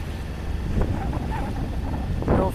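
Steady wind rushing over the microphone and water washing against the hull of a sailboat on a morning sail near the coast, with a couple of louder gusts or splashes.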